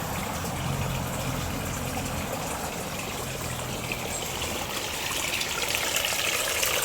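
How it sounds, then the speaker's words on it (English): A stream pours steadily over exposed bedrock in an autumn garden, a dense continuous rushing and gurgling wash heard up close, with no voices. "water's flowing over it and around it"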